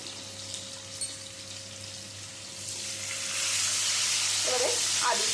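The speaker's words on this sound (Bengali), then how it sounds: "এর মধ্যে ডুম ডুম করে কেটে নেওয়া আলুগুলো দিয়ে ভেজে নেব" Chunks of potato fry in hot oil with a pinch of turmeric, a steady close sizzle that swells louder and brighter partway through and stays strong to the end.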